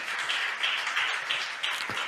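A church congregation applauding during a sermon, a steady wash of many hands clapping at moderate distance with no speech over it.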